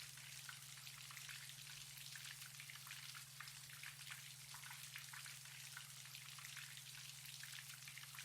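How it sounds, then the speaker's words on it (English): Steady rain falls with dense, crackling droplet patter alongside a low constant hum, quiet and unbroken throughout. "Let the rain carry your thoughts."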